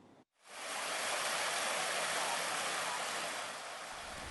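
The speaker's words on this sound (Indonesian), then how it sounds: "banjir bandang menerjang 2 kelurahan di Kecamatan Ngalian, Kota Semarang" Floodwater from a flash flood in Ngalian, Semarang, rushing as a loud, continuous broadband roar that starts abruptly after a brief gap and holds steady, easing only slightly toward the end.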